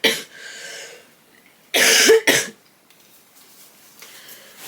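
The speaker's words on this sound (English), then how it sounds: "I'm gonna cough." A single person's cough, close and loud, made of two quick harsh bursts back to back with a faint throat sound before them, followed by quiet room tone.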